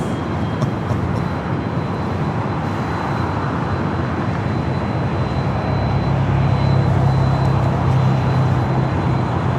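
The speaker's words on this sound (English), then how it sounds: "flight 624. Heading back to Barcelona, A330-200." An Airbus A330-200 airliner at Los Angeles LAX airport, flight 624 bound for Barcelona, gives a continuous broad engine roar that swells slightly louder toward the end, with a low drone joining in.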